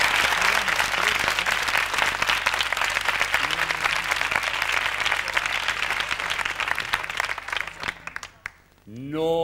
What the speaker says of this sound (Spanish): Para los que piden un fuerte aplauso, por favor.